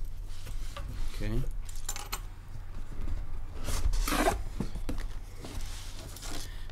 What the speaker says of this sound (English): I just used my keys.